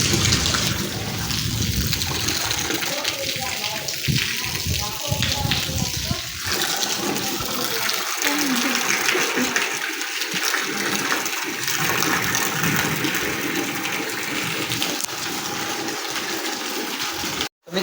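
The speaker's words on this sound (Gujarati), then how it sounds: "પાણી આડું જાય, કેટલું પાણી આડું જાય." Heavy rain driven by wind during a cyclone storm rushes in a loud, unbroken wash of water, and a person talks over it at times.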